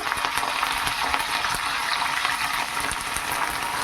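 Dried red chillies and curry leaves, stems still on, crackle and sizzle steadily in hot oil, a dense close frying hiss that runs without pause for the whole stretch.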